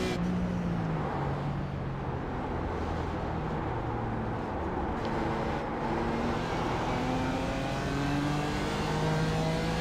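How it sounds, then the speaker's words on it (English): Race car engine in the iRacing sim during an IMSA Michelin Pilot Challenge race at Mid-Ohio, droning loud and steady near the rev limiter in third gear, with a continuous high whine throughout. "just barely hitting the rev limiter in third"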